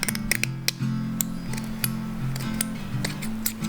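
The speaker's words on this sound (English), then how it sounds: "we just took out the stainless steel mesh and we're just gonna cut it." Scissors snip through stainless steel mesh in a series of short, sharp clicks and crunches over a steady low hum, close and fairly loud.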